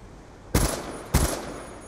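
Two sharp gunshots from a rifle fitted with an FMJ attachment in the video game Black Ops 2, fired about half a second apart, each a loud broadband crack with a short decaying tail, over faint background hiss.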